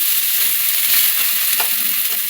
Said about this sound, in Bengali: পটল রান্না করছি, পটলের মশলা বসাচ্ছি